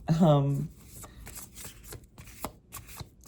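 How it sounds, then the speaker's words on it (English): An Animal Oracle card deck is shuffled by hand close up, making a run of soft papery riffles and light taps after a brief voice at the start. "I'm gonna just shuffle from the Animal Oracle deck"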